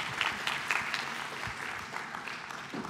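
Crowd at a London talk event applauding a volunteer invited on stage, sustained clapping of moderate loudness that gradually thins toward the end.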